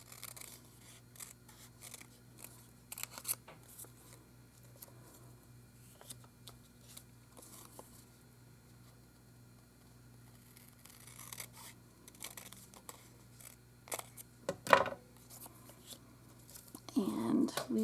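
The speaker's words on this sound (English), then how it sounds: "I'm just going to turn this over on the other side and trim it right" Scissors trim paper around a coin envelope for a fairy journal craft, delivering bursts of close crisp snips and paper rustles spread through the stretch, alongside soft handling noises.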